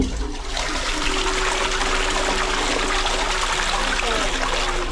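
Household toilet flushing after a blocked drain has been cleared, a loud continuous rush of water close by that settles into a steady gushing stream.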